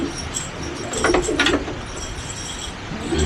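Pigeons at a racing loft coo softly and intermittently, with a brief flutter of wings near the middle and a steady background murmur of birds, moderately close and without speech.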